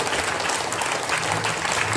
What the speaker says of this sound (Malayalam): നല്ല ക്ലാപ്പ് ചെയ്യണം,